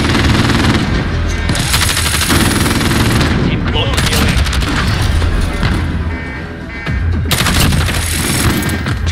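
Sentry machine gun fire in a shooter video game roars in long, dense, loud bursts mixed with booms and explosions, briefly easing before resuming, with faint voices underneath.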